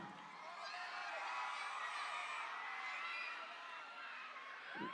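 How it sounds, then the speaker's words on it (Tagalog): Live audience at a rap fest with Andrew E. roars with steady cheering, whoops and clapping, a dense sustained crowd wash at constant loudness for the full five seconds. "Pahirig naman palakpakan at sigawan."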